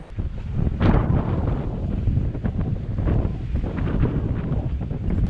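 Sea waves surge and wash against the base of a steep cliff at a fishing spot, a broad continuous roar with wind buffeting the microphone throughout.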